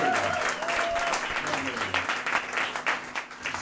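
An audience applauds after a song at a community event, a dense crowd of clapping hands filling the space at a steady level with a faint voice carrying over the start.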